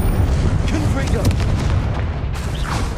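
Confringo fire spell blasting in Hogwarts Legacy, a loud, continuous rumbling boom with crackling bursts throughout, dense low energy and scattered sharper pops near the end.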